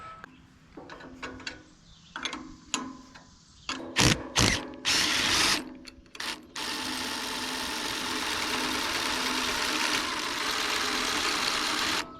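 Ratchet wrench clicking in short bursts while backing out the motor mounting bolts on a Ventrac Power Rake attachment, close and alone, followed by a steady mechanical whir.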